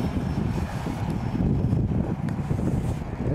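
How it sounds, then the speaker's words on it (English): Steady low wind buffets the microphone, a continuous rough rumble with a faint hiss and no voices. "It's pretty windy upstairs up there."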